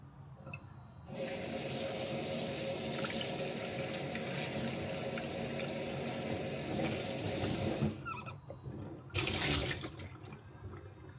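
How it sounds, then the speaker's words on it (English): Tap water runs steadily into a sink as starch is washed off potatoes, a close, continuous splashing rush that briefly breaks and then surges again near the end. "Here in China, we wash the starch of potatoes like this."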